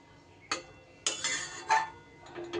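A utensil stirs cooked pointed gourd (potol) curry in a pan, making a few separate metallic scrapes and clinks against the pan, close up, with quiet gaps in between.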